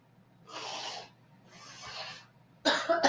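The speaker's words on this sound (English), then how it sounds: "I'm going to go blow my nose real quick." A person with sinus congestion blows their nose in two forceful, breathy bursts, followed by a sharper snort-like blast, close to the microphone.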